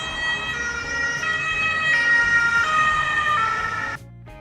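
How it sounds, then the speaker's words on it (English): Ambulance siren wailing continuously in a rising and falling tone, loud and close, cutting off abruptly near the end with no talking. "Ambulance."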